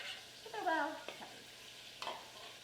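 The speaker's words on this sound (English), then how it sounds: "And I'll throw my veggies in and mix it all up." Vegetables tossed with maple syrup and olive oil in a bowl, making a few close, wet swishing and scraping stirs in short bursts, with no talking.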